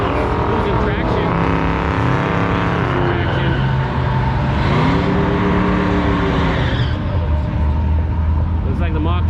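Cars drag racing at a Hot Rod Power Tour event, one losing traction, with engines roaring loudly and continuously as pitches sweep up through gear changes, under steady crowd and commentator talk.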